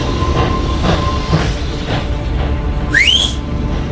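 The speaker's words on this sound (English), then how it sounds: "The train leaves in 1 hour." A train pulls away with a sharp rising whistle near the end, over steady rumbling and rhythmic wheel clatter on the rails, loud and close.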